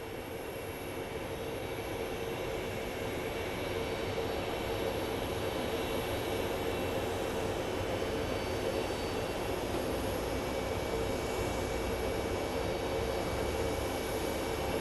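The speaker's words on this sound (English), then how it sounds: "The 737-800 is coming in." A Boeing 737-800 landing at Phoenix Sky Harbor airport gives a steady, broad engine roar that stays fairly even and moderately distant for the whole stretch, with no voices.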